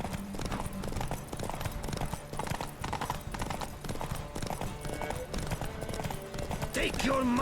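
In Witcher 3, a horse gallops at full speed with a rapid, continuous clip-clop of hooves, mixed with game music and voices talking over it throughout.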